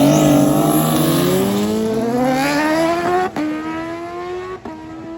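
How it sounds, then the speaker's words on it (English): A turbo cruiser motorcycle at a drag race screams past close by, its engine note rising steadily as it accelerates, loud and alone with no talk. "The turbo cruiser that just does giant wheelies."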